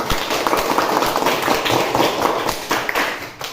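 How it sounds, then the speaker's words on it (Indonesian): A class of students claps for themselves in a short, dense burst of applause that carries on loudly and evenly from start to finish, with scattered sharper slaps. "Tepuk tangan dulu untuk kalian."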